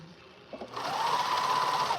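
Three-thread cover stitch sewing machine running, a steady close whirring drone starting after a brief quiet moment and holding until the end, with no talking.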